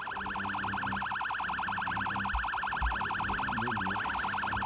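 An alarm siren in the video game Project Zomboid wails in a fast, steady warble, loud and continuous throughout, with a few low thuds beneath it and no one talking.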